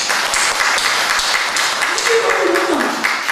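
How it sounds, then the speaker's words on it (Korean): A church congregation in Jinju applauds during a Sunday service, loud sustained clapping filling the clip, with a short tonal sound near the end. "박수 한번 합시다"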